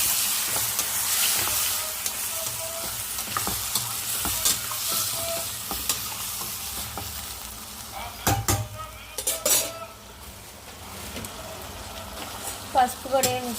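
Dried fish curry frying in a pan with steady sizzle while a utensil stirs and scrapes, metal clinks bunching into sharper clatters toward the end; close and moderately loud, no talking.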